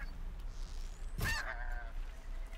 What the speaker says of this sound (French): Ah par contre voilà, les trucs des oies